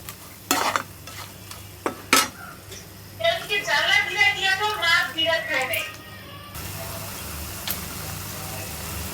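Shrimp stirred into spice paste in a hot pan, with a few sharp utensil knocks, then a burst of bubbling sizzle and scraping before a softer steady hiss. A voice speaks over parts of it.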